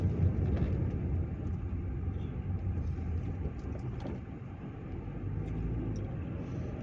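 Inside a car driving the road from Cipanas to Jonggol via Gunung Batu, a steady low engine drone and road rumble fill the cabin, continuous and moderately loud.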